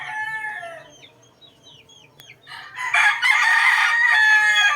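A straight-bred Kanawayan gamefowl rooster crows loudly and close by, one long full crow after some softer clucking and distant bird calls, with no voices.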